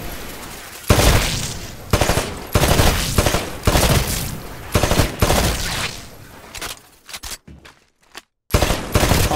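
Automatic weapon fire from the game Titanfall rattles across a shooting range in loud, close bursts of rapid shots. Each burst is separated by brief pauses, and near the end there is a short silent gap.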